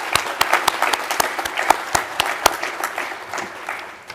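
Audience applause at a spring awards ceremony: a crowd claps steadily while several close, sharp individual claps ring out in an irregular rhythm, gradually thinning toward the end.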